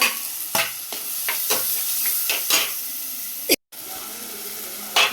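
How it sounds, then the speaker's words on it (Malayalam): Ginger, garlic and shallot paste with tomatoes stirred and sautéing in a pan for fish curry, with a soft steady sizzle broken by several sharp spoon scrapes and knocks near at hand. "ഇഞ്ചിയും വെളുത്തുള്ളിയും ചുവന്നുള്ളിയും കൂടിയിട്ട് മിക്സാക്കിയത് ഇട്ട് കൊടുക്കും നന്നായിട്ട് പച്ചമണം മാറണ വരെ വഴറ്റി കൊടുക്കും"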